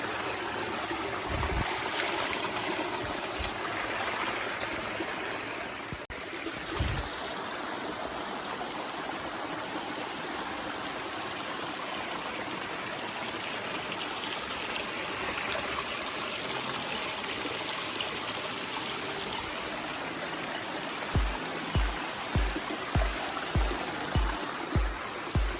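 Spring water stream at a drinking-water catchment in Jamaica, flowing and trickling steadily up close the whole time, with a few soft low thumps toward the end.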